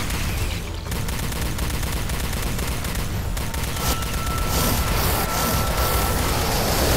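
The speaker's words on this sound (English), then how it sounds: "That was a grenade launcher there." Dense, chaotic weapon fire and explosive bursts from a grenade launcher during a firefight in the video game Star Trek Elite Force 2, loud and continuous throughout.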